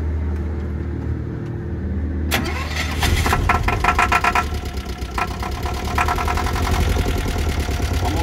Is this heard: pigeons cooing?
no